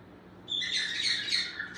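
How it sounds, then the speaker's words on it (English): Pet birds chirp in a steady, bright stream of high tweets that rises after a brief quiet start, copying wild birds heard outdoors in a home kitchen setting. "They heard birds outside and they think they have to copy them."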